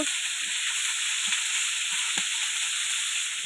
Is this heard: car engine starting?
no